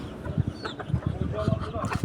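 A broody hen being set on eggs gives low, pulsing clucks in short repeated bursts, close by and fairly loud, with other faint farmyard rustling around her.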